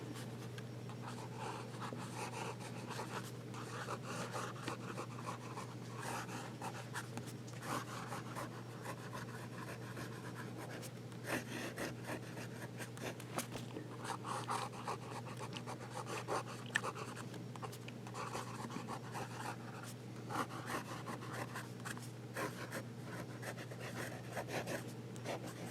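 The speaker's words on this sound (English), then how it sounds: "Reverse writing." A fountain pen scratches steadily across paper, close and quiet, in continuous small strokes with a faint constant hum underneath and no speech.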